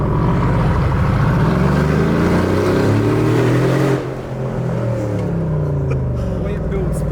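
A loud Mercedes G-Wagon, a 3.2-ton SUV, accelerating through London streets, engine rumble rising and revving steadily before easing off partway, heard from inside with people talking over it.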